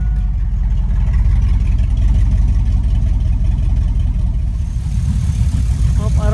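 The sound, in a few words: car engine idling and misfiring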